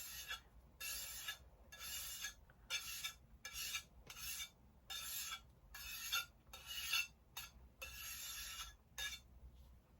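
Oil paint being scraped off a glass palette, a series of short rasping strokes in an uneven rhythm, close and quiet with brief gaps between scrapes.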